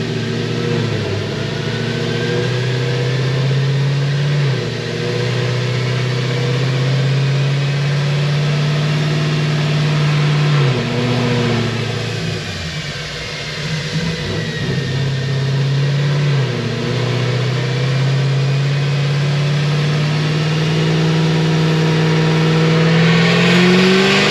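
A Magnuson 2650 supercharged Cadillac CTS-V makes about 1100 hp on a dyno pull, its engine revving hard and loud. Pitch climbs in steady sweeps, drops back near the middle, then rises again in a continuous roar with no talk.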